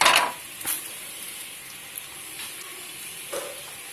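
A soft, steady sizzle of garlic frying in a pan, with a few light clinks of a utensil against it.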